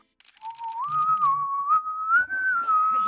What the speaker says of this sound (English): That was a great whistle, actually.